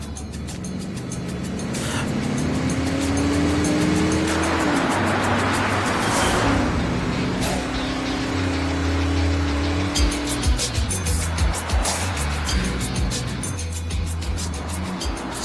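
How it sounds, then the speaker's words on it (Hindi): A car engine revs up and accelerates hard, the pitch climbing and holding loud and close, with road noise and some clattering later. "चलो गाड़ी तेज भगाओ।"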